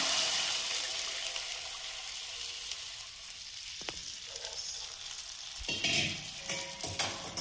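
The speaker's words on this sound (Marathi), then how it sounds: "आता आपण जो व्हेजिटेबल स्टॉक घेतलेला आहे तो गरमच आहे, तो आता सगळा टाकून घेऊया" Hot vegetable stock goes into a sizzling pan for veg manchow soup over a high flame, making a steady frying hiss broken by a couple of sharp clatters and splashes, then a renewed surge of bubbling sizzle.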